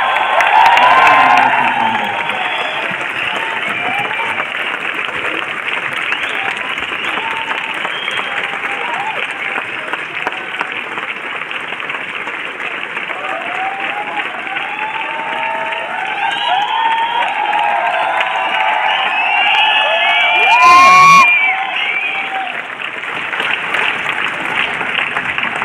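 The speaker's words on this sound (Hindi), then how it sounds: "मैं जोरदार तालियों के साथ कुलदीप जी को बुलाना चाहूंगा।" Sustained applause from a seated audience welcoming a speaker onstage, dense steady clapping that lasts over twenty seconds, swelling briefly near the end, with scattered voices and cheers mixed in.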